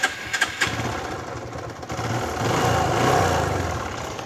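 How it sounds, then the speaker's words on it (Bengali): A TVS Apache RTR 150cc motorcycle engine starts with a few sharp cranking bursts, then catches and settles into a steady, rising idle that holds close and loud, with no voices. "তো এখন আমরা দেখব বাইকটির সাউন্ড কোয়ালিটি"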